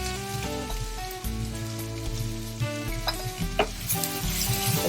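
Capsicum tipped into onions frying in a home kitchen pan gives a steady close sizzle with stirring scrapes and clinks, over a continuous backing track, with no talk.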